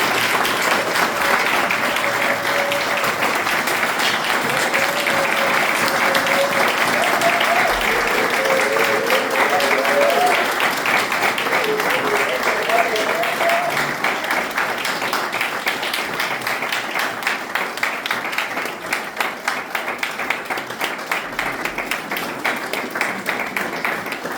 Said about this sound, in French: je vous demande beaucoup d'applaudissements